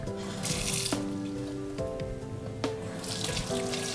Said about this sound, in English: now I'm going to clean my catfish head just to do it thoroughly